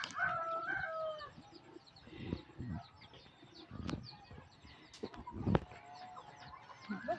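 Chickens cluck in a backyard while a rooster crows, the bird calls scattered and fairly close, mixed with quiet voices talking and occasional knocks and thumps.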